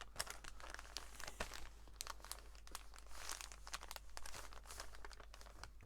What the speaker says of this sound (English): I love the crinkly nature of it, so we all like a crinkly ASMR page, don't we?